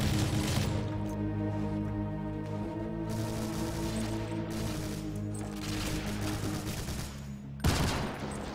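Continuous gunfire fills a Doom mod shootout in Alien Vendetta, played in co-op: rapid overlapping shots ring out loudly for several seconds, with one sharp burst near the end.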